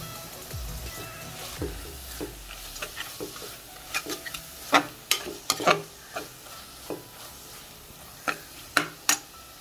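A spoon stirring channa rice with mint leaves and coriander in a pan, scattered scraping clicks and taps against the metal over a faint low sizzle, quiet and close, with no talking.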